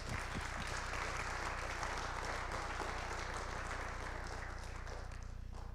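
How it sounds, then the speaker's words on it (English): Audience applause at a filmmaking talk on 360 cameras and depth extraction, a faint, distant wash of clapping over a steady low electrical hum. "let's give them a big hand of applause."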